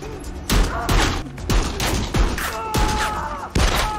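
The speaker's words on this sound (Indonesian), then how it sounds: "Terjadi baku tembak." Rapid bursts of gunfire in an action film shootout crack out in a loose, repeated rhythm, loud and close, with booming impacts and background noise.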